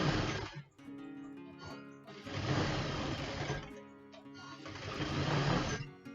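A sewing machine running a flat stitch down a seam on a non-woven fabric bag, in two or three steady whirring bursts with short pauses between them. The machine sounds close but fairly quiet, and no one talks.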